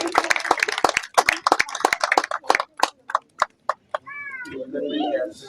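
An audience at an evening Republic Day eve event at a newly built Amar Jawan memorial in Mhow claps in bursts of sharp separate claps that thin out, and then voices follow.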